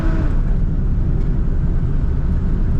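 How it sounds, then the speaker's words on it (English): A 1953 Cadillac Series 62 four-door sedan with automatic transmission idles steadily, a continuous low rumble heard close and alone without talk. "This car starts up and idles nicely right away."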